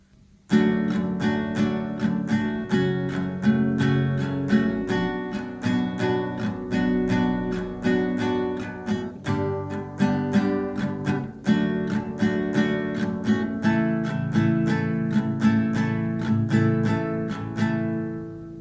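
The first part of a verse from an easy Valentine's love song is played on acoustic guitar, with chords strummed in a repeated pattern of crisp, rhythmic strokes, nearby and solo without any voice.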